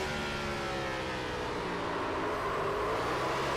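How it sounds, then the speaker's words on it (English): Onboard engine of a Cup Series stock car in a racing sim at Richmond Raceway, a steady loud drone that swells slightly as the throttle opens, alone with no talk. "he throttled that car up"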